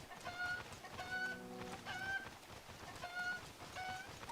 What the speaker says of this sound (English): You can use the chicken like a glider.